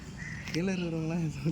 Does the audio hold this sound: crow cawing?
yes